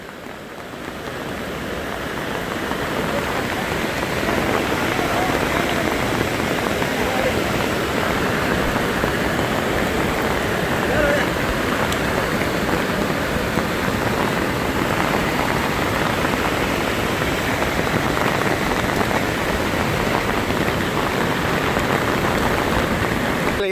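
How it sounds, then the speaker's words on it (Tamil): Heavy rain pours down in Kilinochchi, Sri Lanka, in a dense, unbroken roar that swells in over the first few seconds and then holds steady and loud. "எப்படி மழை பெய்யுதுன்னு பார்த்தீங்கன்னா அங்கால கரையே தெரியல"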